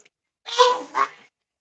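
A pet goose gives two quick nasal honks close by, the second shorter than the first, with silence on either side.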